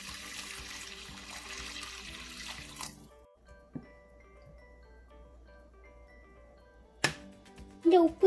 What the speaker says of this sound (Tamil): கொஞ்சம் தண்ணி சேர்க்கிறேன்.